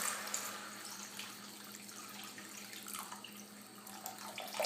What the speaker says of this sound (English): I'm going to pour in the water.